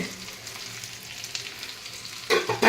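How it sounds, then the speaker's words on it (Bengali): Chicken pakora frying in a pan, a steady soft sizzle with faint scraping, then louder clatter of utensils near the end; no voices. "এই যে চিকেন পকোড়া হচ্ছে, হবে"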